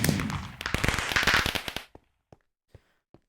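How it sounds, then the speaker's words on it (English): Minecraft quest-completion fireworks in GregTech New Horizons: a dense, loud crackling barrage of rapid pops for nearly two seconds, then four isolated, fainter pops spaced about half a second apart. "And that was some fireworks for that too."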